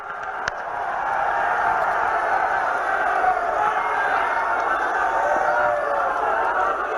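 A large crowd cheers and applauds to welcome the Prime Minister at a 2019 Lok Sabha election results gathering, a sustained, fairly loud wash of cheering that swells after a brief start and carries steadily to the end.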